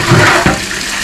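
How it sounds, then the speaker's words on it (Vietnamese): Water running hard to rinse dirt off an old coin jar unearthed in the highlands, a loud close steady gush and splash filling the whole moment. "xả nước cho hết đất nữa"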